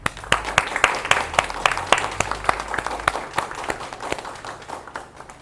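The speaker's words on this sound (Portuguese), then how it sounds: "uma salva de palmas para vocês" An audience claps at a talk, a sparse scattering of individual hand claps with uneven rhythm, moderately close and fading slightly toward the end.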